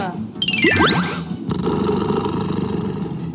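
A person's voice imitates a tiger's growl with a rough, roaring "grr", loud and close, rising sharply and then sustained for a few seconds.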